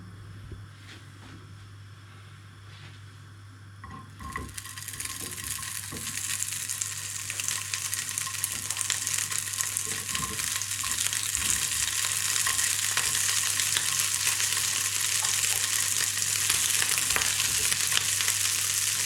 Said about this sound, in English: fry it in a pan for a little bit